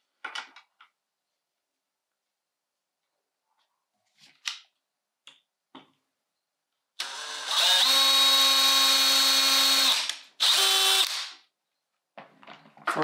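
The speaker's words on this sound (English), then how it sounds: "I'll go along and drill the two holes." A power drill bores two holes in a wooden picture frame for glass-on-glass pressed flower framing, a close whining burst of about three seconds and a shorter second run, among small handling clicks.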